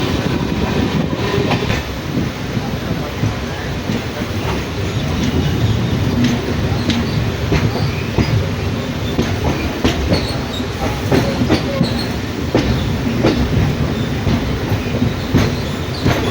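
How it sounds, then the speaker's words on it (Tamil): A train rumbles steadily along through a station platform near Mayiladuthurai Junction, wheels clacking over rail joints with faint squeals and a continuous roar, heard from on board. "இப்போ நம்ம ட்ரெயின் வந்து ஃபஸ்ட்டு பிளாட்ஃபார்மில் டிரைவில் போகுது"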